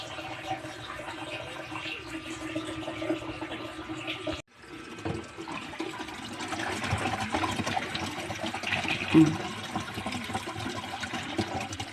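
Water runs and drains steadily through a freshly unclogged kitchen sink, a continuous splashing wash with a brief break midway before the flow resumes, close and fairly loud.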